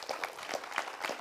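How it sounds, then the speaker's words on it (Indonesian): An audience at a seminar talk claps in a brief, moderately loud round of applause with rapid, evenly spaced hand claps. "Tepuk tangan buat Mas Umar."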